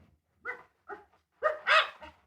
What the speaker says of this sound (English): An inquisitive dog.